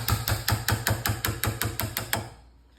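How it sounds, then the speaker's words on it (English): A wood chisel, bevel down, is struck in a steady series of about eleven evenly spaced sharp taps while cutting material from the rest area of a handmade self bow, close and crisp, ending in quiet. "I'm going to take a wood chisel, and we're going to do bevel down so we can control it."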